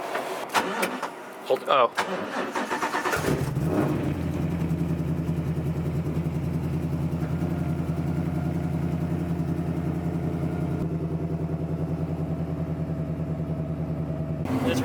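A race car engine cranks and fires up, then settles into a steady, rumbling idle that carries on close by. Brief voices come just before the start.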